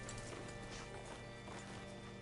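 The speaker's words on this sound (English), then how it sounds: "Hitch your horse up here." Horse hooves clip-clopping at a walk in the Red Dead Redemption 2 game world, a steady soft rhythm under a constant ambient bed, with no speech.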